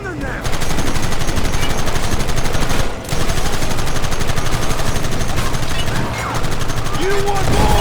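Gunfire from the video game Red Dead Redemption keeps up an almost unbroken stream of loud shots and rapid bursts, with short breaks, during a shootout from behind rocks. Voices shout over the shooting.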